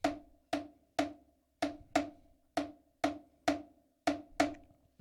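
A clave rhythm struck on wooden claves, sharp dry clicks in a repeating syncopated pattern, about ten hits over five seconds, close and clear with no talking.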